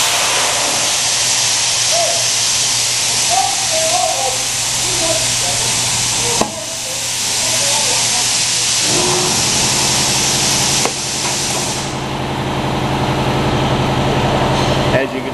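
A DUCO scavenger valve gate closing and pushing out wire, heard as a loud continuous hissing, machine-like rush with abrupt level jumps where the valve shifts, close by, with faint voices in the background.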